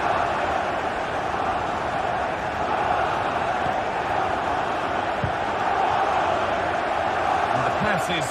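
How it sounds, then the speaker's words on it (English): A football stadium crowd roars steadily as it urges the team forward in search of an equaliser, a dense and continuous wall of noise that holds its level throughout, heard from a broadcast perspective. "the crowd is certainly trying to motivate the team to push them forward to get the equaliser"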